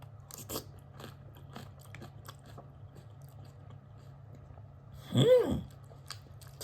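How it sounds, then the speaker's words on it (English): Someone takes a bite of a homemade chicken nugget salad veggie soup, a single close, soft crunch of chewing that rises briefly out of near-silence. "All right, time to taste the soup."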